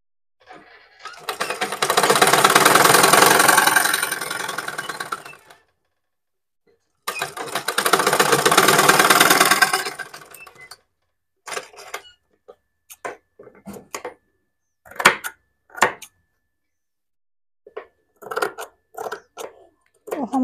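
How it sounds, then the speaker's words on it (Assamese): A sewing machine stitches a blouse in two long, loud, steady bursts of rapid whirring and clatter, followed by short, sharp taps and brief starts with quiet pauses between them. "আমি এইটো চিলাই মাৰিম।"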